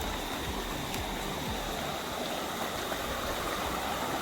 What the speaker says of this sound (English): There's a small waterfall right there.